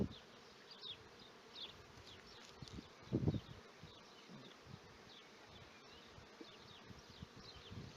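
Honeybees buzz densely and continuously around an open hive during a swarm-prevention inspection, close and steady, with a brief louder thump of a frame partway through.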